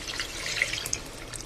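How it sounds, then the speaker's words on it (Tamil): Water is poured into a cooking pan of sautéed onion, green chili and ginger while making wheat rava upma, a short, fairly quiet splashing stream. "2 பங்கு தண்ணி சேர்த்துக்கலாம்."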